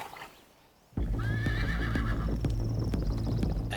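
A horse whinnies loudly and close after a brief quiet start, a long wavering neigh followed by softer snorts, with hooves clip-clopping underneath the call.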